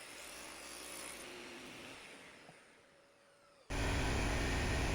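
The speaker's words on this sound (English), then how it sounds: "I'm setting up the table saw to cut the dado slots." A table saw whines loudly cutting dado slots, its pitch sagging as the blade bites, then winds down before a louder burst of machine noise kicks in.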